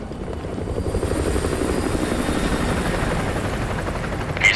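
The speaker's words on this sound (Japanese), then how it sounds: "敵ヘリだ、伏せろ。" An enemy helicopter passes overhead in Call of Duty: Modern Warfare 2, its rotor throbbing loud and steady throughout with a low, dense rumble that swells slightly at the end.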